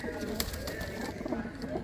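Black Cheena pigeons of the Punnu line coo softly in a loft, a low steady murmur with faint overlapping calls throughout.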